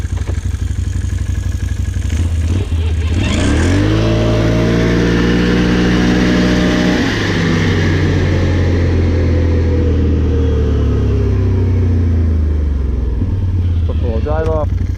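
Can-Am Renegade 570 ATV from 2021, fitted with an aftermarket Dalton clutch spring, driven in low gear: a loud, steady engine drone rises and settles in pitch as it accelerates, with brief talk over it.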